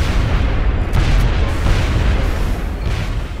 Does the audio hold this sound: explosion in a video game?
yes